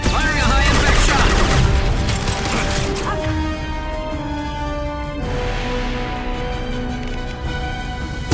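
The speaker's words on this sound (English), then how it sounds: "Enemy! Firing a high-impact shot!" A Mass Effect 2 firefight with a loud burst of rapid gunfire and mechanical clatter at the start, followed by ringing tonal weapon and ambient sounds.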